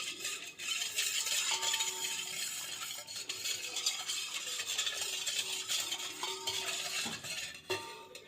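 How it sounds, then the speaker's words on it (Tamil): Colostrum milk being mixed with powdered cardamom and sugar, a quiet continuous swirling and scraping of a spoon in a bowl with faint clinks, close and without talk. "நல்லா மிக்ஸ் பண்ணிடுவோம்."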